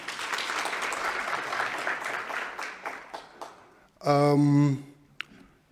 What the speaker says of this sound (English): let's give him another hand of applause.